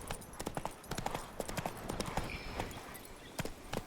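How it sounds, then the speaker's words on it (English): Roach, a horse in The Witcher 3, gallops with quick, loud hoofbeats in a steady rhythmic clip-clop, close and clear with no speech over it. "Run, Roach."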